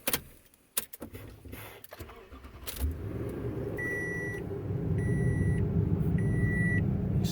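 Toyota Tundra pickup truck: a few clunks, then the engine starts and settles into a steady running hum, while repeated electronic dashboard chimes beep in short rhythmic groups.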